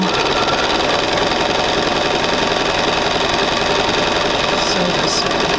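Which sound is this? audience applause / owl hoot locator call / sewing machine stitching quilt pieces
sewing machine stitching quilt pieces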